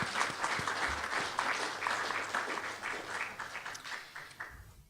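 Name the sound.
round of applause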